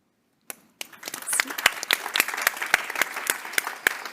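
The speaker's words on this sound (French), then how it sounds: "j'aimerais qu'on applaudisse" Audience applause at a women's health policy conference, honoring a woman entrepreneur who co-founded a telemedicine company. A single clap opens it, then dense, steady clapping swells and holds fairly close and loud, with a few sharp claps standing out.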